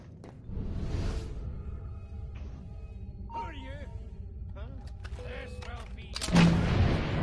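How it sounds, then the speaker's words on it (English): Mortar bombs explode in the Assassin's Creed Unity video game as scattered muffled booms and whooshes under game voices and music, ending in one louder blast near the end. "Fine, mortar bombs, got it."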